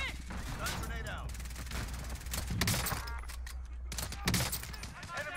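Rapid gunfire in Call of Duty Warzone, dense bursts and fusillades of shots cracking in quick succession, with a loud cluster near the middle and another late, under faint game voices.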